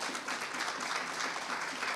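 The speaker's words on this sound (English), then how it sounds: "let's give him a round of applause" Applause at a bank ribbon-cutting ceremony, a crowd clapping steadily and densely for a short stretch, moderately loud with no speech over it.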